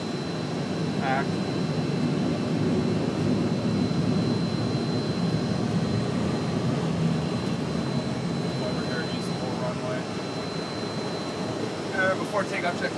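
KC-10 jet engines running steadily before a heavyweight takeoff, a constant broad whine and rumble heard from inside, with faint crew radio or intercom chatter now and then.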